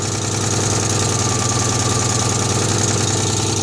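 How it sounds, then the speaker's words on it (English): A Citroen 2CV engine idles steadily at close range with a loud, even, chugging pulse from an exhaust leak at a clamp. There is no talking. "Sounds like an exhaust leak to me though"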